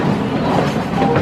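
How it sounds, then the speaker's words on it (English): The Santa Cruz Beach Train rolls down the middle of Chestnut Street, a close, continuous rumble of wheels on rail with a faint clack, heard alone without talk. "Now, train's been rolling down the middle of Chestnut Street, since 1878."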